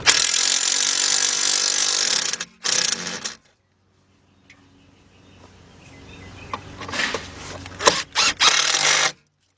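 A power tool whirs in loud bursts while tightening the bolts on an Audi A8 Quattro starter, with a long run at first, a short burst, then a quiet pause with faint clatter before several quick closing bursts.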